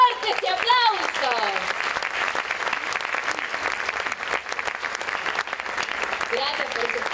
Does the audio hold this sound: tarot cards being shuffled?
no